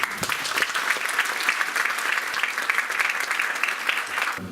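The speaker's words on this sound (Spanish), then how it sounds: "Un aplauso, por favor" Applause from an audience at a criminology book launch, a moderate crowd clapping steadily and evenly, fairly close, then cutting off abruptly.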